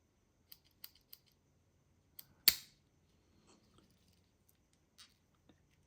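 Small scissors on a pocket knife handled with a few faint clicks and snips, then one sharp louder snap, followed by scattered soft clicks in near silence.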